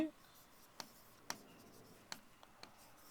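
Chalk or marker writing on a board gives a few sparse, sharp taps and short scratchy strokes, close but faint against a quiet room, with no speech.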